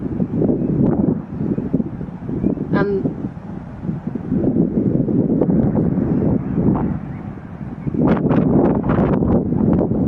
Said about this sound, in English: And you can hear obviously the wind.